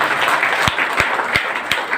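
An audience claps steadily and loudly for a senior guest at a gathering, with a few sharp individual claps standing out. No one speaks.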